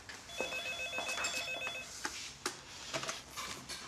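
A telephone rings in repeated electronic trills in a home kitchen, moderately loud, with clattering sounds around it.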